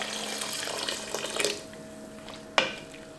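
Water pours into a soup pot of chickpeas and lentils as a close, continuous splashing trickle that fades out, followed by a sharp clunk near the end.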